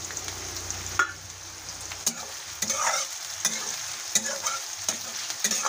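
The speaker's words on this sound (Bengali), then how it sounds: "নেড়ে নেব। দিয়ে দিচ্ছি কাঁচা লঙ্কা।" Green chillies are stirred and fried in a pan for a village-style chicken curry, giving a steady sizzle broken by several sharp spoon scrapes and knocks against the pan, close and moderately loud, with no talking.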